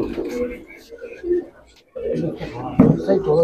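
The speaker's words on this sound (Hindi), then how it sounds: "ये प्योर इंडियन ही कबूतर है।" Pigeons coo in soft, throaty bursts close by, with people talking over and between the calls.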